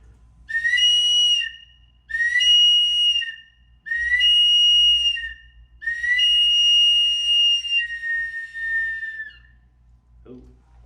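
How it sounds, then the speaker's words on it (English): A small whistle used for the eagle dance is blown in four long, high, piercing blasts, the last one drawn out and wavering, loud and close, with short pauses between blasts. "first I'm going to blow this little whistle that I usually blow for the eagle dance"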